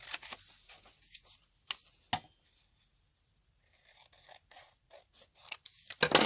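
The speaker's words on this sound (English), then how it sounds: "So I'm just going to cut out an image here that I think is complementary." Scissors snipping out a paper image for a junk journal, a few crisp close cuts separated by a silent pause, then more small snips and paper rustles toward the end.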